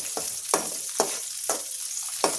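Spices such as curry leaves and cinnamon fry in hot oil with a constant crackling sizzle, cut by regular scraping stir strokes about every half second, close and fairly loud.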